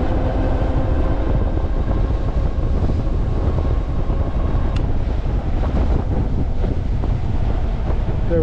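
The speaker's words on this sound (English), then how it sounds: "I'm definitely going right here, right into the wind." Heavy, constant wind buffeting roars across a helmet-mounted GoPro while riding an Ariel Rider Grizzly electric bike straight into a headwind, a dense rumbling rush that never lets up.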